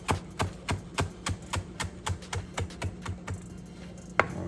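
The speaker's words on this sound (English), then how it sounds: "now with the basil, I'm just gonna do a rough chop" A knife rough-chops fresh basil on a board with a quick, even run of about a dozen close, crisp taps, the last one louder and set apart.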